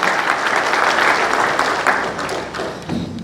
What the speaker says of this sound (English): Please give a huge round of applause to Nirav Patel.